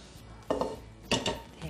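Bacon pieces tipped into a carbonara mixture in a pan, two soft bursts of clattering and scraping with light metallic utensil contact, close and fairly quiet.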